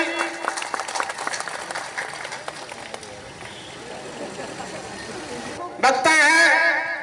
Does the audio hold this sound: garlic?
no